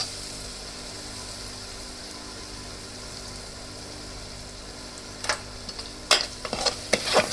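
A steady sizzle of raw mango curry frying in a pan with chilli powder, followed near the end by a few scraping stirs of a spoon against the pan.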